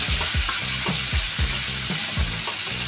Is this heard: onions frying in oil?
yes